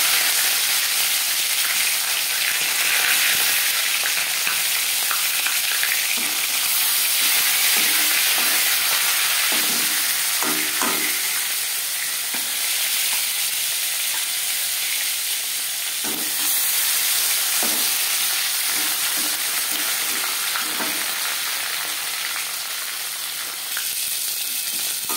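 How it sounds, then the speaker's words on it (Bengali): Marinated tilapia fish pieces frying in refined oil in a pan, a loud, continuous sizzle with occasional sharper crackles and soft stirring sounds, no talking. "এবার দিয়ে দেব ম্যারিনেট করে রাখা মাছ।"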